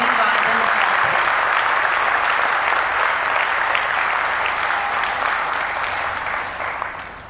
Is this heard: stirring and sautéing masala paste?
no